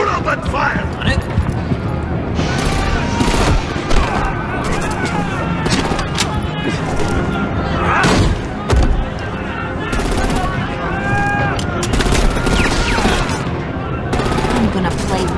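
Gunfire in the Batman: The Enemy Within video game, with dense rapid bursts and single shots crackling nonstop alongside shouting voices and game dialogue, loud and close.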